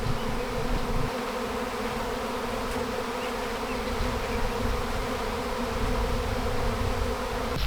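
A honey bee swarm of over twenty thousand bees clustering on a tree gives off a dense, continuous buzzing hum, steady and enveloping with no voices.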